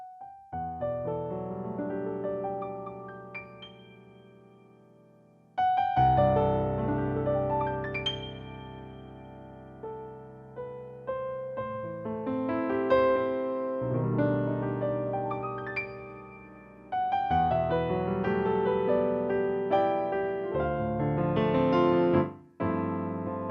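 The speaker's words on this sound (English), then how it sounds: "it's the sound of the Shigeru Kawai Concert Grand Piano." A solo Shigeru Kawai Concert Grand Piano sound on a Kawai MP7SE stage piano plays a flowing passage of chords and melody, clear and close, with sustained notes ringing between phrases and no voices.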